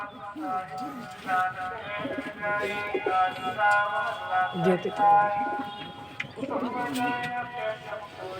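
Pigeons coo close by in repeated soft, throaty phrases, mixed with light bird calls, while people talk nearby.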